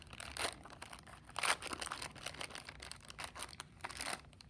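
Scissors cutting open a plastic Model Magic package, a run of close crinkling, snipping and tearing sounds for several seconds with no talk.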